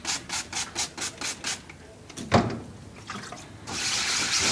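A brush or pad scrubs a printing screen with ink detergent in rhythmic back-and-forth strokes, then water splashes and runs.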